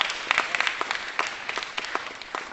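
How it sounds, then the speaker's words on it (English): Town hall audience at Rainier Beach claps in a scattered, moderately quiet burst of applause, individual hand claps audible throughout. "Yeah, you can clap for that."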